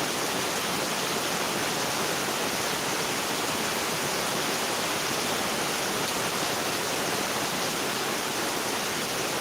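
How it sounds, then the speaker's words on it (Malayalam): Heavy rain pours down in a dense, unbroken hiss, steady and enveloping from start to finish with no gaps or voices. "എത്ര കേട്ടാലും മതി വരാത്ത ശബ്ദം അതാണ് മഴയുടെ ശബ്ദം"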